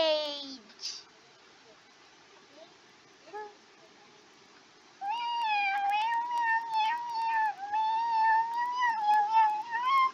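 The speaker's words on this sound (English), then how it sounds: "Enough meowing." Cartoon cat meows, clear and mid-loud, in a long run of wavering, pitch-sliding cries after a brief early yowl and a quiet gap.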